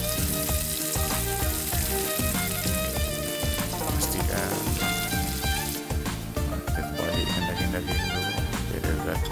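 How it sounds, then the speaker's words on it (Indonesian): Beef sizzles loudly and continuously in hot oil in a wok as it is fried until crisp for sambal dendeng, with occasional clatter of stirring. "Daging tu kita goreng"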